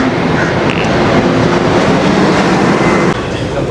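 A train rumbles loudly through a Singapore station, with a dense, continuous roar and a faint wheel clatter that eases slightly near the end. Voices murmur faintly beneath it.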